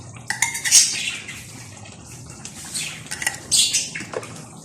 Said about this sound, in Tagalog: Ngayon, lagyan na natin tong liver spread.